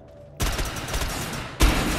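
Gunfire from the video game Defiance, with a loud sustained burst of rapid shots that starts abruptly after a quiet moment and then a second sharp blast near the end.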